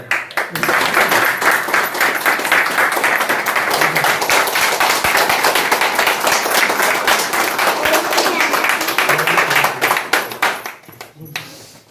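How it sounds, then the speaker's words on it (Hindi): Sustained applause from a large audience at a motivational speaking event, dense steady clapping that holds for about ten seconds before tapering off near the end. "आपकी जोरदार तालियों में मैं चाहूंगा खड़े होकर उनका वेलकम करेंगे"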